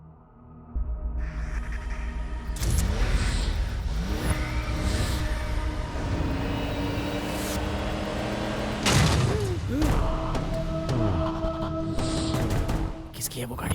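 Car engine rising in pitch several times as it accelerates and revs, loud and close, with thumps and clatter mixed in and talk in the background.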